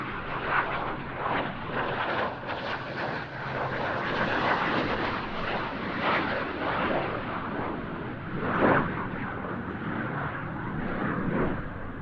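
An Airbus Heritage replica ME-262 jet flies past at an airshow, its engines producing a steady, broad roaring rush that swells and ebbs slightly, with no voices.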